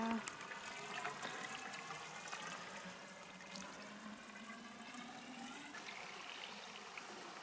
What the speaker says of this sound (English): there's a lot of water in this beaver pond